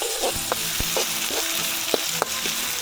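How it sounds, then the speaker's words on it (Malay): Sambal ingredients stir-fried in a pan at a jungle campsite after fish is fried: a dense continuous sizzle broken by sharp metallic spatula clinks and scrapes every half second or so. "Lepas siap goreng ikan, aku pun masukkan bahan yang nak ditumis."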